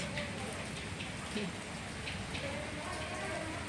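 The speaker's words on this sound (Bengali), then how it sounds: "ভেবে দেখো বৃষ্টি পড়েই যাচ্ছে কন্টিনিউ" Continuous rain falls in a steady, moderate patter, a broad hiss of drops on surfaces that stays even from start to finish.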